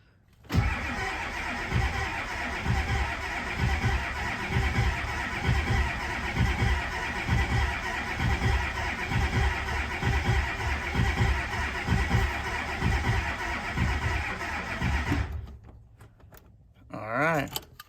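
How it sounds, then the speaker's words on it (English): A diesel engine is cranked by a newly fitted starter, giving a long, steady churning drone close by for about fifteen seconds, then it stops abruptly, with weak batteries. "let's hear that new starter"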